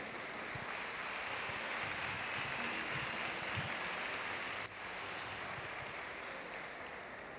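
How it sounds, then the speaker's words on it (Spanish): Sustained applause from an audience at the Spanish national spearfishing championship weigh-in, honoring competitor Óscar Cervantes; steady broadband clapping throughout, dipping slightly after the midpoint. "un fuerte aplauso para Óscar Cervantes"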